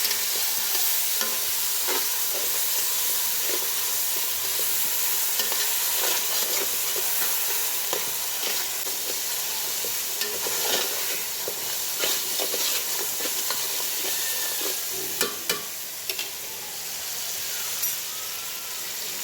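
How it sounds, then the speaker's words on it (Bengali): Ginger, garlic, cinnamon, cardamom, bay leaf, chili powder, cumin, coriander and salt fry with chicken in a pan for biryani, a steady broadband sizzle throughout, with repeated stirring scrapes and clicks rising above it. "সব কিছু একটু ভাজা ভাজা হোক।"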